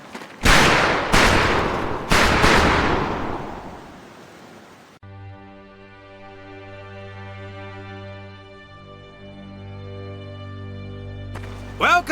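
Gunfire on a firing range in the video game Medal of Honor Pacific Assault: several loud, sharp shots in quick succession, then fading into a sustained droning musical tone.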